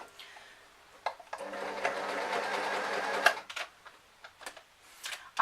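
A sewing machine runs one steady, close seam of about two seconds on an elastic formal top, stitching a one-third-inch seam allowance over pins, with quieter clicks and handling before and after.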